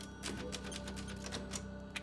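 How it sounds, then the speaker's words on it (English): A typewriter in the video game Resident Evil Village clacks in a quick run of keystrokes, a steady patter of soft mechanical taps over a low background hum, with no talk. "there is our typewriter."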